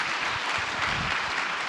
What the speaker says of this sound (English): how about a giant round of applause for Wendy and a great talk